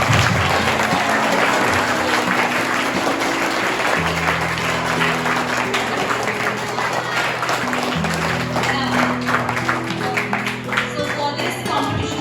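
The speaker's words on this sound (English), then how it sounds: "Let's welcome him with a big round of applause." A school audience at an inter-house science quiz competition claps steadily to welcome the scorer, dense applause filling the room over a background music loop with stepped low tones.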